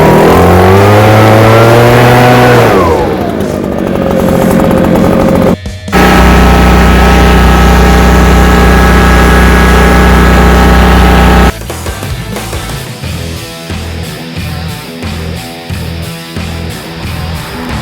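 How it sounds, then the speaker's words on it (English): A gas-powered backpack leaf blower roars loud and close, its engine pitch dropping, then holding a steady high drone before cutting to a rougher, pulsing idle-like chatter. "This is the best backpack blower on the market right now."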